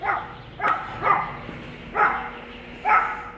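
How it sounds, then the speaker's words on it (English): A dog in a house's backyard barks about five times in uneven, spaced yelps, fairly close and moderately loud, with no talk. "I'll get away from that doggy."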